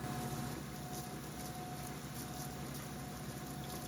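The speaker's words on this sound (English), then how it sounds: "And I will be moving on to the 220 grit wheel." A lapidary 220 grit grinding wheel working a piece of Calandria agate gives a steady, unbroken whirring grind that stays at an even level throughout.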